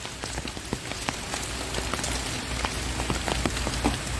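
Steady rain pattering onto a pond where an albino giant gourami swims, dense patter with scattered sharper drops throughout, close and even in loudness, no voices.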